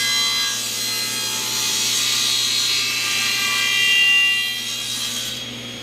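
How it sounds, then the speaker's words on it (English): A powered saw cuts a 3/8 inch tenon into a 3/4 inch thick wooden board, a steady, close whirring rasp that swells briefly near the end and then eases off, with no talking. "So I just turn on the saw."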